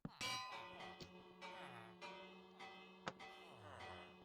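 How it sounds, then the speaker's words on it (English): A bell in Minecraft, rung by a redstone clock, strikes again and again at a steady, fairly quick pace, each bright clang ringing out and overlapping the next. "Mario made a redstone clock that repeatedly rings a bell"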